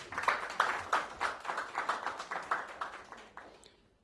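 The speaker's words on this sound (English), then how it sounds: "Big round of applause for Jared." A modest audience at a tech showcase event applauds, a short burst of close, brisk clapping that tapers off after a few seconds with no talking.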